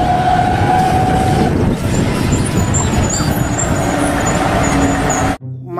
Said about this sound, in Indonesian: Mobil derek.